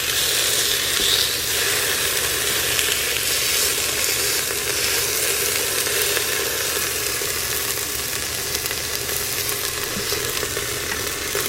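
Short ribs browning in a pressure cooker pot, a steady loud sizzle and spitting crackle held evenly throughout, close by with no talking.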